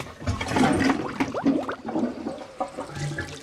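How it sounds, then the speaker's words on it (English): Toilet flush close by: a rush of water with bubbling, gurgling swirls that rises, churns for a few seconds and then trails off into trickling, with no one talking. "Okay, I'm gonna flush."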